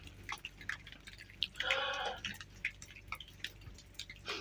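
Water dripping after a heavy downpour, scattered soft drops falling irregularly at close range, with a brief splashy patch in the middle and no talk.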